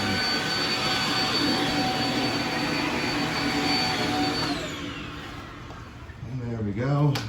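A Shark Multi Flex vacuum cleaner runs with a steady, loud broadband whoosh and a high whine, then cuts off and winds down near the end.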